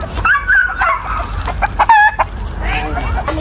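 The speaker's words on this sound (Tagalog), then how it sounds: "Ang dami palang manok ni ano dito." Chickens and roosters on a farm cluck and call close by, with short crowing bursts overlapping in a busy, continuous flock chorus.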